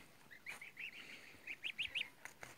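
Young chicks chirp in a rapid series of high, thin peeps, bunched together at a moderate distance with a quiet background.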